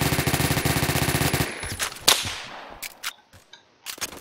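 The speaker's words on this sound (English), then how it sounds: "And that was a sniper dude." Rapid automatic gunfire rattles loud and steady in a Roblox shooter game, then breaks off into a few sharp, isolated sniper rifle shots with short gaps between them.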